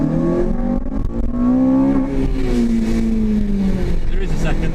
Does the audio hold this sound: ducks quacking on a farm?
no